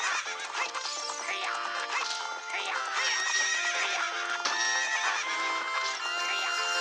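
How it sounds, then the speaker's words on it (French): Epona the horse whinnies repeatedly in The Legend of Zelda: Ocarina of Time over bright background music, shrill rising-and-falling neighs coming in several bursts. "Quel est ce cheval? Est-ce Epona? Oui, c'est Epona."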